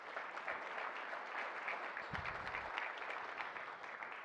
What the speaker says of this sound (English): please, a round of applause for all those folks